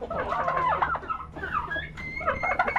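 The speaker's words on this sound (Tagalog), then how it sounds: "Saan na kaya yung pabo?" Turkeys gobbling in a farmyard, several rapid rattling gobbles in quick bursts, fairly close, with a steady low hum underneath.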